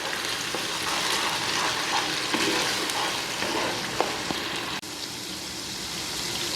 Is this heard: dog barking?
no